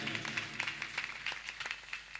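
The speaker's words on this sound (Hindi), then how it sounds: "एक बार जोरदार ताली बजाएंगे ऐसे व्यास जी महाराज के लिए।" Audience applause at a Shrimad Bhagwat katha, a religious discourse gathering: a faint, steady patter of many hands clapping that continues for about two seconds, with no voices over it.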